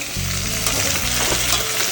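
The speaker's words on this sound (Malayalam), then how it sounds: "വറുക്കൽ" Onions and chillies fry for egg biryani, a loud, close, steady sizzle with a low hum underneath.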